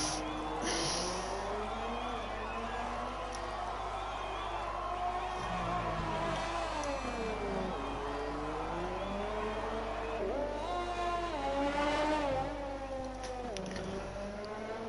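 An F1 2020 race car from the video game cruises through its cool-down lap, its engine note rising and falling steadily in a continuous drone for the whole stretch, with a commentator talking over it.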